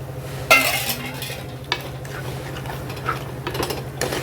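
Crab curry with masala and onion stirred in a pan, giving a sharp clatter at the start and then intermittent scraping strokes over a low steady hum.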